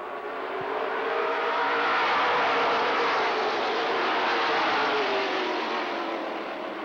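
Mid American stock cars race wheel to wheel at LaCrosse Speedway in West Salem, Wisconsin, a loud, continuous engine roar from the pack that swells and fades gently as they run down the back stretch.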